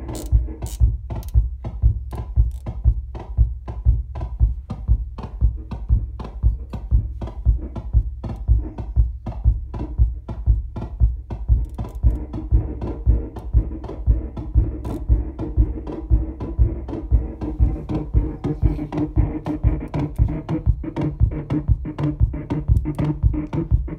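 A homemade modular synth built from scrap pulses out a steady train of sharp, evenly spaced clicks; partway through, the hits soften and smear into a sustained buzzing drone as the attack changes. No one speaks.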